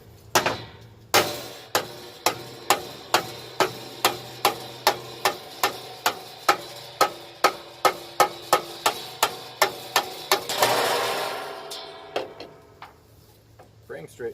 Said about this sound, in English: Frame straightening 101.